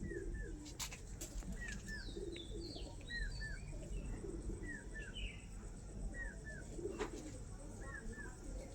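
Andhra pigeons, a pair of male and female birds kept for sale, coo in soft repeated double notes over a steady background murmur, with faint chirps and crickets mixed in.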